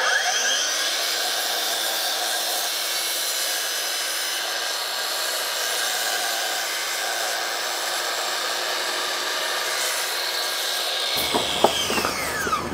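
A Makita or Dewalt 305mm mitre saw cutting through 190mm-thick timber stood upright, a loud steady high whine of the blade grinding through the wood for about eleven seconds, then the motor winding down, with no talking.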